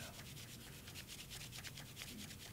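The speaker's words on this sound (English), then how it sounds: "sandpaper, and I'm going to do this wet, and it's going to just slightly take some of that shine off" Fine-grit sandpaper rubs wet over cloisonné enameled jewelry to dull its shine, a steady close scratchy back-and-forth rasp repeating in quick strokes with no talk.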